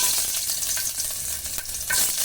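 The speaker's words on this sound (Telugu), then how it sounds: "ఆయిల్ హీట్ అయ్యాక ఇందులోకి చెక్క అలాగే లవంగం వేసుకుంటున్నాను" Whole spices like cinnamon and cloves, along with ginger and garlic, fry in hot oil in a pan, producing a bright, steady sizzle with crackles and stirring scrapes, close up and without any talk.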